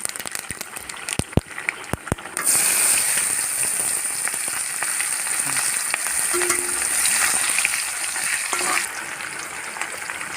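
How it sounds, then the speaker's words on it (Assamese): Onions dropped into hot mustard-style frying oil already seasoned with bay leaf, five-spice seeds and dried chili sizzle loudly and continuously after a few clinks of utensils, with steady crackling and occasional stirring scrapes close by. "এতিয়া ইয়াত পিঁয়াজখিনি বহাই দিম।"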